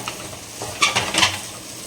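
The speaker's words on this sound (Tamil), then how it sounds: "கஸ்தூரி மேட்டி சேர்த்துட்டு ஒரு 2 நிமிஷம் நம்மளுக்கு கொஞ்சம் லைட்டாக சார்ட்டேஜ் பண்ணிக்கலாம்" Kasuri methi sautéed in a pan for restaurant-style butter tikka masala: a soft sizzle beneath a few quick scraping stirs of a spoon against the pan.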